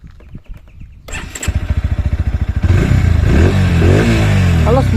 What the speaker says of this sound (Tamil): ஸோ பைக் வந்து ஸ்டார்ட் பண்ணி உங்களுக்கு எக்ஸாஸ்ட் சவுண்டு வந்து நான் உங்களுக்கு காட்டுறேன்